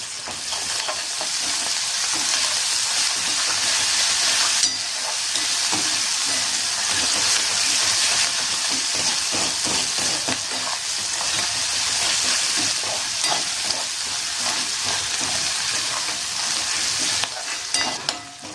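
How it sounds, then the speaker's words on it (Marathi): Ginger garlic paste frying in a pan with onion for a brinjal bharit, a steady loud sizzle with stirring scrapes throughout, no talk. "आलेलं लसणाची पेस्ट पेस्टही छान परतली गेली"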